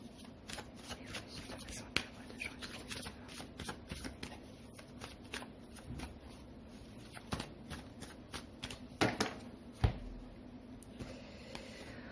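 Tarot cards being shuffled and drawn close up, a long run of quick crisp riffling snaps and soft slides repeating in bursts, quiet and intimate with no voice.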